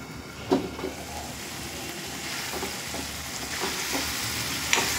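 Mughlai chicken curry sizzling in a pan as it is mixed, a steady low frying hiss with scattered scrapes and clinks of the spoon, close and alone, with no voices.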